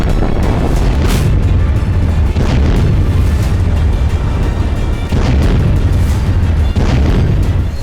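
Repeated heavy explosions from a Russian RBK-500 cluster bomb, loud rolling booms blending into a dense, continuous roar with several sharper blasts.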